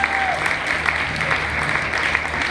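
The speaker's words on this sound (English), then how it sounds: "Ladies and gentlemen, let us hear a thundering round of applause for" An audience at an awards ceremony in a Taj hotel claps in a dense, steady round of applause, loud and continuous throughout.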